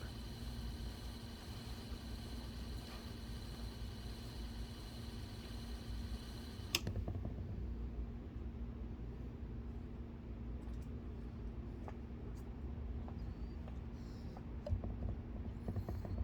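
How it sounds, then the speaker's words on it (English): The engine-bay blower on a Glastron Carlson CVX-16 boat runs with a faint, steady motor hum and whine, then shuts off with a click partway through, leaving quiet background noise and occasional small ticks. "We have an operational blower."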